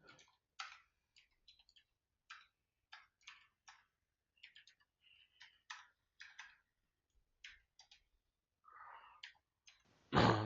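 Keys clack on a computer keyboard while code is typed, a quiet, irregular run of single taps and short bursts, close and alone, ending with a louder thump.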